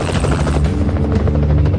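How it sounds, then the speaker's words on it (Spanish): A helicopter flies low over a building, its loud, steady rotor thumping and engine roar filling the whole moment without a break. "Hay un helicóptero por aquí."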